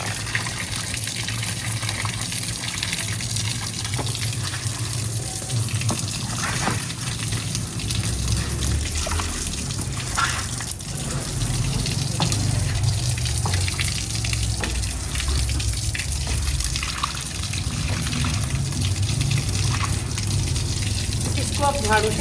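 Tap water gushes steadily while a very dirty backyard is being washed, a continuous broadband rush from start to finish with occasional faint voices underneath.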